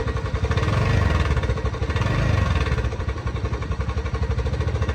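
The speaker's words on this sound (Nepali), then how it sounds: "पुरै ट्याक ट्याक ट्याक ट्याक ट्याक गरेर आवाज आइरहेको छ।" TVS Ntorq scooter engine running with a steady, close, loud rhythmic ticking clatter, a fault in the engine, continuing throughout with no talk.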